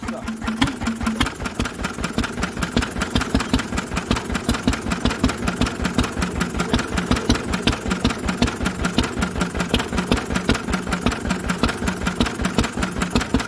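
Old Lister engine running through a CS silencer after decades idle, a steady, evenly pulsing chug, loud and close, with no talking.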